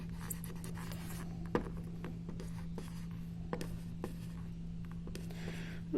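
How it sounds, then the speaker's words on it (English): A pen scratches across a craft card in short strokes with occasional sharper taps, close and steady over a constant low electrical hum, with no talk. "you can write your name with it"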